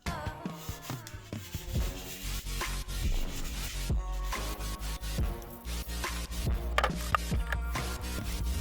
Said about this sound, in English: get some leather cleaner onto your brush and agitate it on the leather